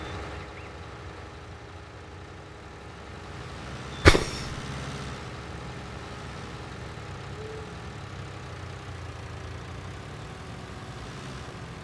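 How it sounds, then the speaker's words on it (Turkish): A tractor engine in Farming Simulator 2019 drones steadily under load, a low, strained hum broken once by a sharp click-like transient, with no talk over it. "Çekmiyor ki traktör."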